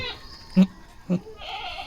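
A mother goat bleats twice just after giving birth, two short close calls separated by a pause, with faint background noise between them.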